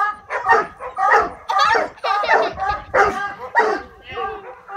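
A coon hunting dog barks at a caged raccoon, giving loud, close, choppy barks and yelping bays in quick uneven bursts with brief gaps between them.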